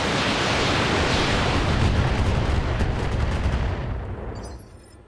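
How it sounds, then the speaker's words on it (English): A dense barrage of explosions in the mech combat game Battletech with the Roguetech mod, a loud continuous roar of overlapping blasts that slowly dies away at the end. "We're going to rely on a whole bunch of little explosions to try to knock this guy off center."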